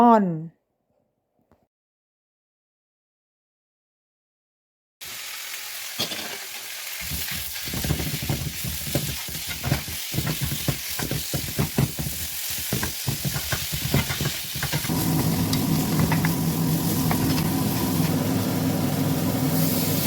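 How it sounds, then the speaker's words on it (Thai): Ham sizzles and crackles as it fries with golden garlic in a hot pan, a steady loud sizzle with stirring scrapes, starting after about five seconds of near silence. "เมื่อกระเทียมหอมและเหลืองดีแล้วนะคะ ก็ใส่ หมูแฮม"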